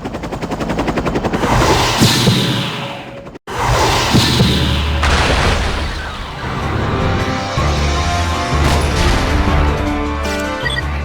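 In the video game Parasite Eve The 3rd Birthday, the Babel tower explodes, heard as a loud sustained roar of blasts and crashing debris, broken by one brief cut to silence and then resuming with heavy rumbling and crackling.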